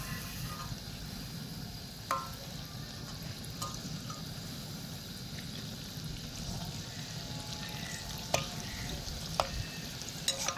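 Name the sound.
flattened rice pakoras frying and being turned in oil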